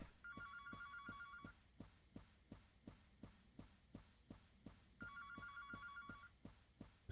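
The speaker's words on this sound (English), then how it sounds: "Excuse me, I just want to answer the phone." An in-game telephone rings in a resort room, sounding two bursts of rapid electronic trilling a few seconds apart over a steady thumping, heartbeat-like pulse in the background.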